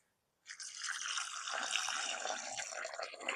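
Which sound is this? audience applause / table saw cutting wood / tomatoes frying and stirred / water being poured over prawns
water being poured over prawns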